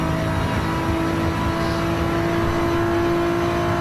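A race car engine holds a steady high-pitched whine in fifth gear at the Catalunya circuit, sustained and loud throughout, with no voices.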